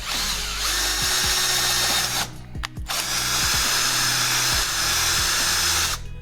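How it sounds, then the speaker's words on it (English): A power drill cuts through a plastic lip up close, its motor whining in bursts with changing pitch and a couple of brief pauses and restarts between runs. "Now we're going to drill the lip itself."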